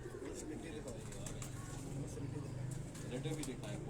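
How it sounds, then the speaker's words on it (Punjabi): Tausi pigeons at a home loft in Lahore give low, soft cooing under steady talk and background noise. "ਇਹ ਜੀ ਖਾਨ ਸਾਹਿਬ ਹੋਰਾਂ ਦੇ ਘਰ ਦੇ ਤੌਂਸੀ ਕਬੂਤਰ ਨੇ ਜੀ।"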